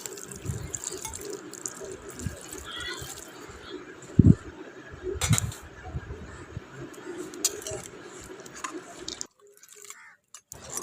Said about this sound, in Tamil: ஒரு கிளாஸ் போல் தண்ணி எடுத்து வச்சுருக்கேன், அதையும் இதோட சேர்த்துக்கலாம்.